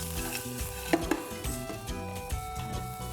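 Crisp deep-fried lamb and onions tossed in a pan, with a soft steady sizzle under scraping, stirring and a few sharp clanks of utensil on metal.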